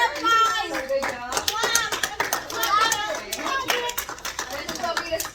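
Classroom students clapping together in scattered, uneven bursts, mixed with children's excited voices and chatter close by.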